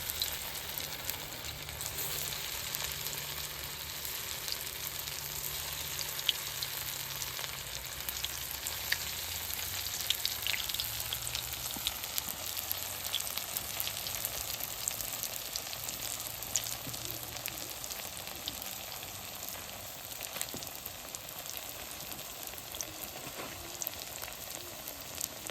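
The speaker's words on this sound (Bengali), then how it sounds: "তেলটা গরম হয়েছে, চপটি এখন ভাইজে নেবো।" Chop made from flattened rice (chira) fries in hot oil in a pan, with a continuous soft sizzle and faint crackles that stay even throughout, with no voices.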